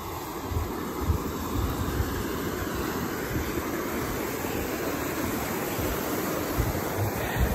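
Water pours in at a collapsed bridge, a steady, loud broadband roar with a deep rumbling low end that runs without a break from start to finish and has no voices over it.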